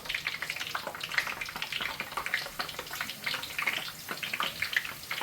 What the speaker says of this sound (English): We're going to go in with our red onions. We're going to try to make sure they separate when we're dropping them in.